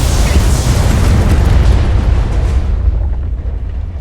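A BattleTech artillery strike lands as a loud, sustained rumbling explosion, a dense roaring blast that holds for a few seconds before fading out toward the end.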